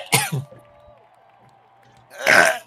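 Someone coughs after something goes down the wrong pipe, a short rough cough and throat clearing at the start, quiet breathing, then a louder harsh burst near the end.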